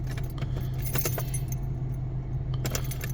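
Keys to a 2018 Jeep Cherokee jangle close by in several quick metallic bursts over the low steady hum of the running engine, with a final rattle near the end.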